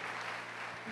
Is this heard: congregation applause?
yes